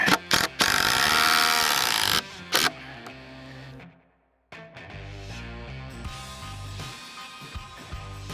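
A power drill or driver sinks 5 1/8 inch GRK structural lag screws into a ledger board for a backyard pavilion, with loud bursts of whirring motor, a brief pause, then renewed driving with clunks and strain.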